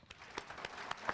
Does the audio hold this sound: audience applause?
yes